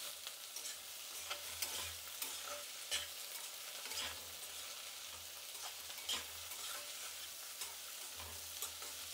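Garlic cloves, tomato and tamarind fry in a kadai, a faint, steady sizzle broken by repeated scraping stirs of a spoon against the pan.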